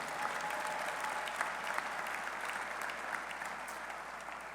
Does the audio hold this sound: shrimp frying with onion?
no